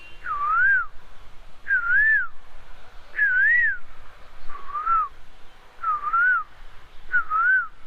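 A man whistles a rising, looping bird-like call six times in a steady rhythm, imitating a koel against a quiet background.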